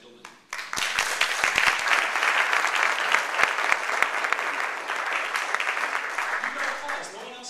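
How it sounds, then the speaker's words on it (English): Panel audience at a premiere event breaking into applause after a quiet moment, a full, steady round of clapping that carries on for several seconds and gently tapers off. "You got applause."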